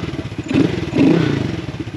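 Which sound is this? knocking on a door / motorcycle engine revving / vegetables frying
motorcycle engine revving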